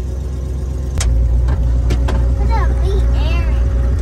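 A 1970s Mustang Mach 1 engine idles with a steady low rumble after starting, heard close up, while brief chatter and a voice rise over it.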